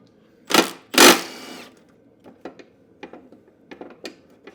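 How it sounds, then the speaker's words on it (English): Bolts being loosened and removed from the guard of a Honda lawn mower, with two loud bursts of tool noise followed by a series of light metallic clicks and ratchet-like ticks, close up and with no talking. "we'll need to take this bolt off"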